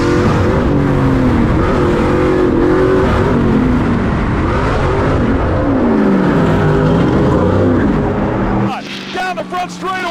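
Stadium Super Truck race engines roar loudly and continuously as trucks race on a track, with engine pitch rising and falling through passes, then cutting to a commentator's excited voice near the end.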